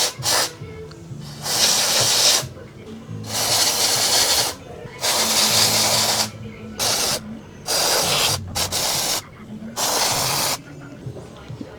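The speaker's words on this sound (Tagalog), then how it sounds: "lagyan natin ng brake cleaner" Brake cleaner hisses onto a Yamaha NMAX 155 scooter's brake in a series of loud, close aerosol bursts of varying length, separated by short pauses.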